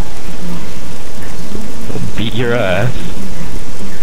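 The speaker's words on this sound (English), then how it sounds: "Ooh, look at the pretty rain." Steady, loud rain falls in the video game Oblivion, a constant hiss throughout, while someone speaks briefly over it midway.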